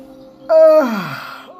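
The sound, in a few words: storyteller imitating a bear's yawn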